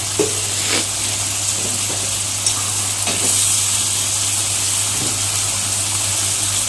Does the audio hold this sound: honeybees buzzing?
no